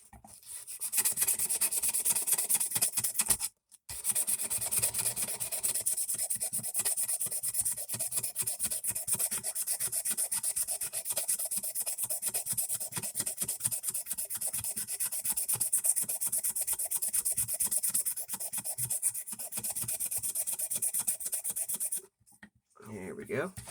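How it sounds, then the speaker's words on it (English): Brass parts being sanded by hand on a piece of wood during a restoration: continuous close, raspy rubbing strokes that run steadily for about twenty seconds, broken by two brief pauses. "This piece of wood here. So that way I got something easier to sand on."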